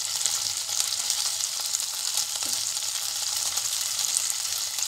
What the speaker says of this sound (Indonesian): Ini kita bakar di teflon